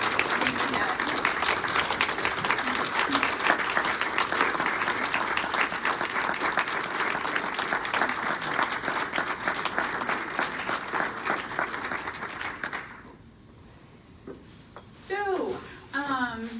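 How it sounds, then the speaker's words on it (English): A meeting audience claps at length in appreciation of a departing leader, a dense sustained round of applause that fades out near the end before a voice speaks briefly. "one more big round of applause in appreciation for that leader"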